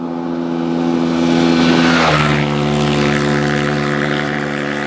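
Kawasaki KLX140RF dirt bike with the biggest wheel set running flat out near its top speed, a loud steady high-revving engine drone with a pitch shift as it passes close by, no talk.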